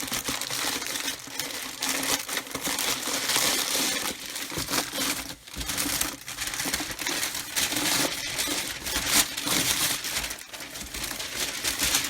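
Plastic packaging rustles and crinkles continuously and close up while a 1/1 scale 8.8 cm Pzgr.39 shell model kit is unboxed, with busy crackling and occasional sharper crunches throughout.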